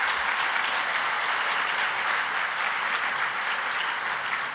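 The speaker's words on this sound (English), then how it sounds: "another round of applause for our distinguished governor, Susana Martinez" Steady, dense applause from a large audience at a women's leadership conference, honoring Governor Susana Martinez, sustained evenly throughout without a pause.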